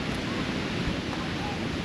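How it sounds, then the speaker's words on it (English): Strong gusts of wind roar steadily through trees at a coastal campsite near South West Rocks, a dense, continuous broadband rush with buffeting on the microphone and no distinct breaks. "Just hear it howling through the trees."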